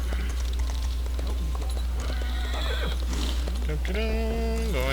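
A horse neighs loudly near the end of a busy game soundscape in Elder Scrolls Online, after scattered hoof clip-clops and other effects, with steady background ambience throughout.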